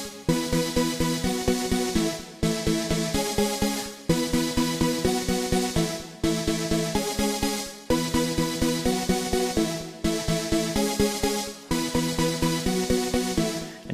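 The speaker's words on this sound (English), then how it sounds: "Then there's a pad part that does this." A synthesizer pad plays a rich, sustained chordal part in a repeating pulsing rhythm, each phrase restarting in even bars, loud and alone.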